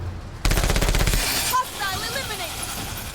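A loud machine gun burst hammers out rapid evenly spaced shots in the video game Menace, followed by whistling, ringing tones as the firing stops.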